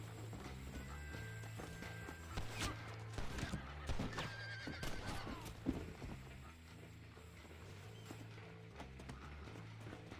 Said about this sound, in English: Arguably one of the best horses in the game.